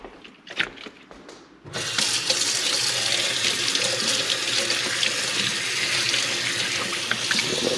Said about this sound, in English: Let's take these stalks and wash them.